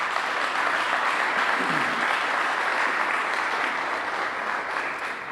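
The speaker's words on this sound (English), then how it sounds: "So let's give Mayor Gray a round of applause." A crowd at a grand opening applauds steadily, a dense wash of clapping hands that holds strong for several seconds and tapers slightly at the end.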